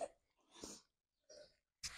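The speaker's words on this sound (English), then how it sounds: "And I wanted to sneeze." A few short, sharp bursts of breath with gaps between them, one loud and broadband like a sneeze or cough, with no talking.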